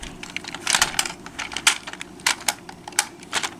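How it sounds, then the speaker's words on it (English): Plastic parts of a Transformers G1 Trypticon toy snap into place, making a rapid series of sharp, close clicks and taps. "Flip these over and click them in."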